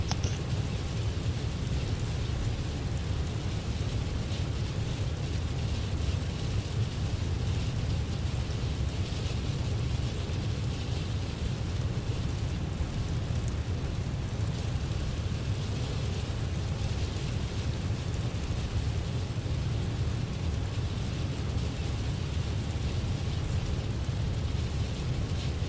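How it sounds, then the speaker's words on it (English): Rain falling in Microsoft Flight Simulator aboard an Airbus A321, a dense, even hiss with low rumbling underneath, continuous and unchanging for the whole stretch. "Enjoy the sounds of the game, the sound of the rain."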